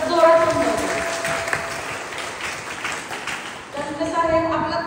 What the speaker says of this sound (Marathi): सरांसाठी एकदा मनापासून टाळ्या वाजवा